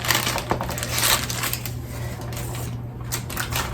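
Dried pie-weight beans poured back into their container in a kitchen, a loud rattling, crushing patter of many hard beans spilling and settling with a few sharper clicks.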